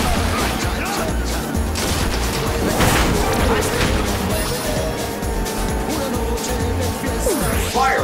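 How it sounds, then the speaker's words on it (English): Loud, busy mix from the kart racer Sonic & All-Stars Racing Transformed, with fireworks bursting in dense crackling pops over steady engine and race noise. A sweep rises near the end, and voices appear amid the bursts. "Firework!"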